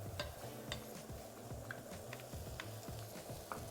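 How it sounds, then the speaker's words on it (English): Bacon strips crisping in a preheated Le Creuset enameled cast-iron braiser with a light sand interior, giving a steady crackle and hiss close up, broken by small pops and faint utensil clinks against the pan. "now we're going to add the bacon and crisp it up."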